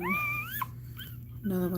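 A dog in labor whimpers with high, drawn-out rising whines, close and fairly soft, in short bursts separated by brief pauses.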